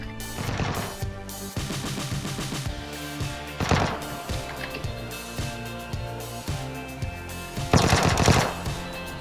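A submachine gun in a video game fires in rapid, rattling bursts, with several distinct loud volleys separated by shorter pauses over a steady background of game sound.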